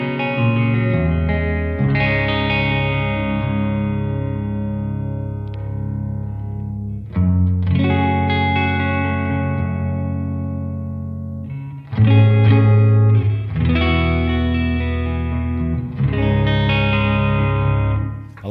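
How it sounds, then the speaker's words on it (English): Electric guitar played through an ambient reverb preset on a TwoNotes Captor X, ringing chords and notes with a spacious wash and tail, loud and alone in three phrases. "Nice little bit of ambient reverb."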